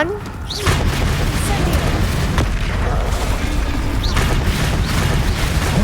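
Bomb explosions in Hogwarts Legacy erupt as a loud, sustained booming roar with deep rumble and bursts layered through the scene, while a voice talks over it.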